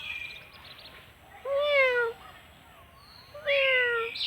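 A neighbourhood cat meows twice, each call a clear drawn-out cry with a falling tail, separated by a short pause, fairly close over faint outdoor background.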